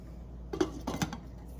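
A lid is set onto a cooking pot of methi aloo with potatoes, tomatoes and chillies, giving two soft close metallic knocks over quiet background.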